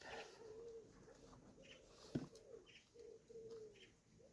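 Birds calling outdoors, with repeated soft cooing phrases like a pigeon or dove, moderately near, joined by a few faint chirps and a brief sharp knock partway through.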